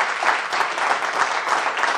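A hall audience claps in sustained, even applause at a celebration of the Torino football club's 104th anniversary, with dense hand-claps at a steady level throughout.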